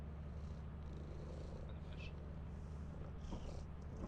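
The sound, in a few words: cat purring in the video game Lethal Company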